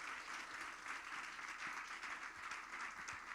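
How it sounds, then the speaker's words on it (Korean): A church young adults' group greets a speaker with applause, steady, even clapping from a gathered audience in a hall, with no voices over it. "박수로 맞이하겠습니다"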